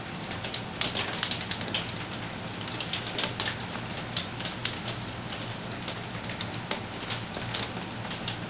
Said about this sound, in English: I hope it stops raining